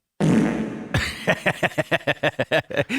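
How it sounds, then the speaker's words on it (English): A soundboard plays a fart sound effect: a long, loud opening blast, then a rapid series of about a dozen short, rhythmic sputtering pops that trail off. "I love the new soundboard. Just so everybody's aware, I've got this. This is fart 1."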